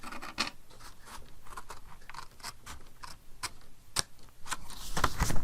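Scissors cutting through fabric: a close series of crisp snips and scratchy clicks in an uneven rhythm, with no talking.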